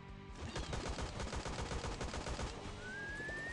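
Rapid bursts of pistol gunfire in the video game Pinatamasters crack out in a fast repeating rhythm, fairly loud and alone, then stop and give way to a rising electronic tone.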